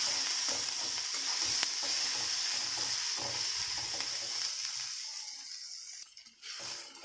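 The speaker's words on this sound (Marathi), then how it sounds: "चिरून घेतलेला टोमॅटो हा कांद्याबरोबर आता चांगला तेलात परतून आहे चांगला भाजून द्यायचा त्याला" Chopped tomato and onion sauté in hot oil, a steady close sizzle and hiss with soft stirring scrapes throughout, quieting briefly near the end.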